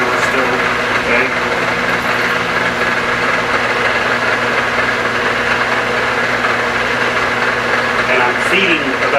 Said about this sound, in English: I'm just hand feeding. I'm doing traditional milling, not climb milling.